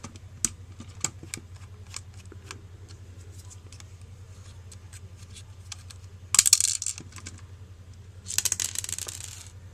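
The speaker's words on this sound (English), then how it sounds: "unscrew these 3 screws right here" Small screws being unscrewed from a plastic Kamen Rider W Lost Driver Skull toy belt, heard as faint scattered clicks and ticks over a steady low hum, with a couple of louder scraping bursts near the end.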